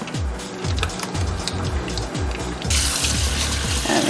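Running tap water rinses a raw lobster tail at a kitchen sink, a steady close splashing stream with a repeating low thumping underneath that grows louder and brighter near the end.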